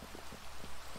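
Rain in the Minecraft video game, a soft steady patter of drops with a faint rhythmic tapping underneath, heard on its own for about a second.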